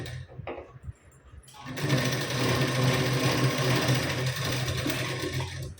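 Brief handling noises give way to a sewing machine running steadily as a blouse sleeve is stitched on to the lining, a loud close continuous whirring drone for several seconds.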